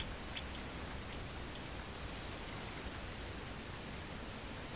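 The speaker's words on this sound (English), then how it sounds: "Oh, look at that rain." Steady, dense rain falling in a city bus driving video game set in New York, a continuous even hiss with no breaks and no voices.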